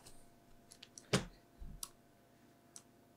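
A few keys are tapped on a computer keyboard to enter a command for a Raspberry Pi, giving sparse, light clicks with one louder press among them in a quiet room.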